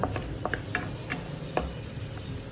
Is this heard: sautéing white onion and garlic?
yes